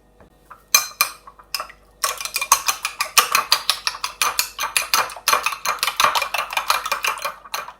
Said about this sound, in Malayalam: ഒരു സ്പൂൺ കൊണ്ട് നന്നായിട്ടൊന്ന് ബീറ്റ് ചെയ്തെടുക്കാം.